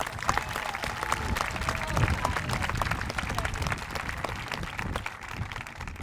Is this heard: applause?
yes